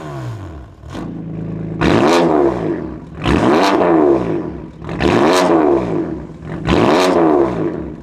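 A BMW F82 M4 with the S55 engine and a Miltech equal-length catback exhaust revs four times in a row, each loud, rasping blip rising sharply and then falling back to a rumbling idle.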